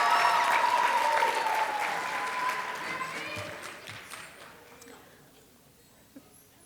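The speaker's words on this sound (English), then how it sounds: "Let's give her a round of applause, please." A middle school winter band concert audience applauds a gong soloist, loud clapping with some cheering that gradually fades to near silence, with a few voices heard in the room.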